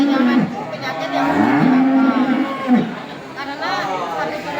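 Dairy cows moo repeatedly at close range, with several low, drawn-out calls overlapping. Faint chatter from nearby people runs underneath.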